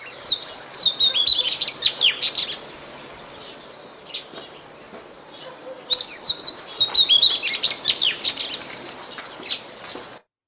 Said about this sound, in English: This is Oriental magpie robin, a pretty common bird, and it is sighted throughout many gardens in India, and it has a very sweet and melodious song.